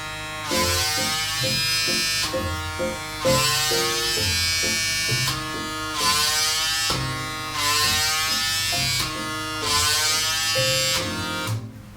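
PMD Beauty Microderm home microdermabrasion device running on the face, a steady close electric buzzing hum that pulses in repeated bursts with brief dips between them.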